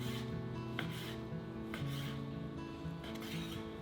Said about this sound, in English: He's going to cut it lengthways into strips first.